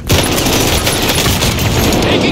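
Rapid Bren light machine gun fire in an online shooter game, a dense unbroken burst of gunshots rattling loud and close for the full two seconds, with game effects layered underneath.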